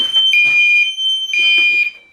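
A homemade fire alarm panel sounds a loud, piercing electronic alarm tone in two long pulsing bursts, close and clear, with a steady high whine running beneath.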